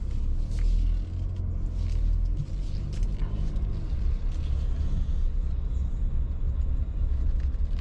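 A 2019 SsangYong Rexton Sports Khan 2.2 four-wheel-drive pickup on the move, heard from inside the cabin: a steady, heavy low engine and road rumble continues throughout with no talking.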